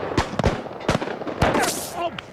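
Several sharp, loud bangs like gunshots from the 2001 film Gosford Park, spaced irregularly over a couple of seconds amid other film sound.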